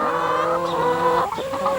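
Chickens cluck and murmur continuously close by, older birds reacting to newly added younger, smaller ones, a steady overlapping stream of clucks with no talk.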